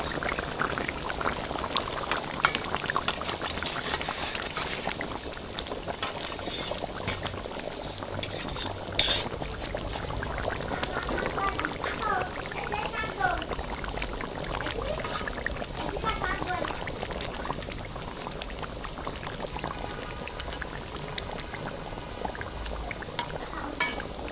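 Sarpunti fish dropped into a pot of bubbling curry, with a steady wet simmer, soft splashing and occasional clinks of a utensil against the pot running through the whole stretch.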